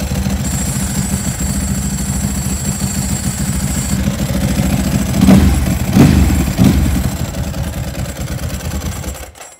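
Italian motorcycle engine with its stock exhaust, running and idling close by with a steady mechanical clatter and a couple of brief revs in the middle before cutting off.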